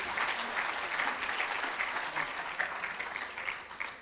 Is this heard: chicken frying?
no